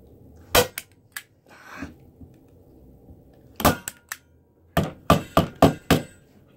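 Sharp pounding blows from an improvised tool, not a hammer, strike a hard object while making a shield, first a few spaced knocks, then a quick series of five or six close, loud hits.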